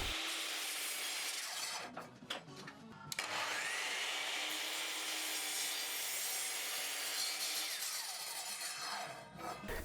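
Saw cutting wooden offcuts from an old TV unit down to a square blank, a loud continuous rasping whine that breaks off briefly partway through, then resumes steadily to the end.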